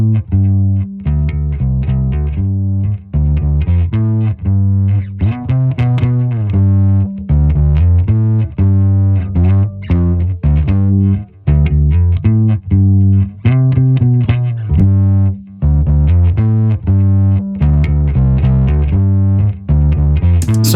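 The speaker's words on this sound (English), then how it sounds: "after all that distortion, we're literally just like gaining like 3 dBs" Music driven hard through a clipping distortion plugin with auto gain engaged, a loud, dense, saturated rhythmic loop with crunchy, flattened transients running continuously for about twenty seconds, no talking.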